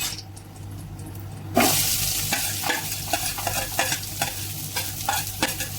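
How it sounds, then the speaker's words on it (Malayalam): Onions sautéed with heated spices in a pan for chicken pulao: a sizzle bursts in after a quiet start, followed by repeated scraping stirs over continuous frying, close and moderately loud. "ഉള്ളി നന്നായിട്ടൊന്ന് വഴറ്റിയെടുക്കാം."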